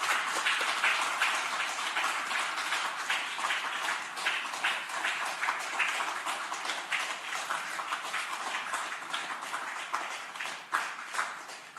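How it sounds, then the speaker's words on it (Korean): A church congregation applauds at a service welcoming new ministers, with dense, continuous clapping from a large crowd that holds steady throughout and fades slightly toward the end. "우리 앞으로 나오실 때 박수로 한번 모셔주세요."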